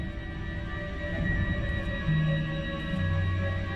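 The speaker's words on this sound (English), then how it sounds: "Scan complete. No listening devices found." In a Star Wars video game, a remote device scanning for listening devices emits steady electronic tones with sustained beeping pitches that shift and hold, close and clear, with no talking.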